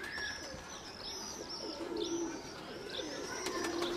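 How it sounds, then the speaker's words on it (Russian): Young pigeons coo softly in repeated low, rolling calls over a steady background hum, with faint chirps mixed in. "Вон, у тебя голуби"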